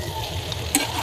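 Potato and cauliflower pieces frying in a pan of ground spices for a Bengali cauliflower curry, a brief close sizzle with a scrape of stirring, no voices.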